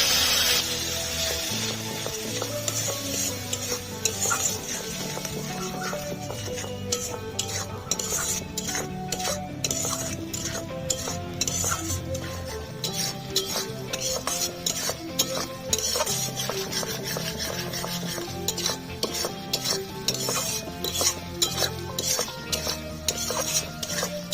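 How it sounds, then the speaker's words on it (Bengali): Spice paste of chili, coriander, cumin and pepper powders with a little water being fried, heard as a continuous close sizzle with a steady run of spatula scrapes and clinks against the pan, no voices. "লঙ্কার গুঁড়ো ধনে জিরে গোলমরিচ গুঁড়ো অল্প জল দিয়ে মশলাটা কষে নেবে"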